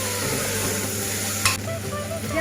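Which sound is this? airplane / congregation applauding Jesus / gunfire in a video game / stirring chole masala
stirring chole masala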